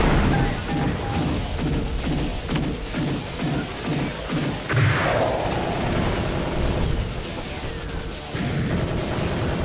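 Explosions and missile impacts from the Sega Saturn mecha game GunGriffon, a steady rumble of combat broken by a rhythmic run of thuds and one sharper crashing blast midway, loud and with no voices over it.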